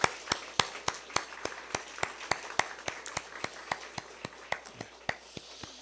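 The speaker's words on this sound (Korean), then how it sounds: "뜨거운 박수로 환영해 주시면 감사하겠습니다" A church congregation at a Korean worship service claps in welcome for missionaries to Ukraine. The sharp claps come at a fairly even, steady rhythm and are heard from a distance with no voices over them.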